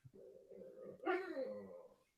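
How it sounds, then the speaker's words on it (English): A pet dog gives a short whimpering whine, nasal and close, rising briefly in the middle before trailing off, heard alone without talk. "that's my dog there"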